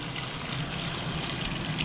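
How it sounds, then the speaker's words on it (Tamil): Water pours steadily into a pot of chicken biryani rice, a continuous close splashing trickle with no talk. "தண்ணி ஊற்றிட்டோம்."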